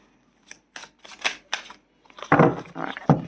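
Tarot cards being shuffled by hand, heard as a run of crisp, papery riffling bursts with short pauses between them, the last few longer and louder, close up in a quiet room.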